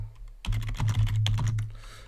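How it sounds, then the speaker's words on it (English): Rapid keystrokes clatter on a computer keyboard in a quick uneven burst of close clicks over a low hum, then trail off. "it could be typing"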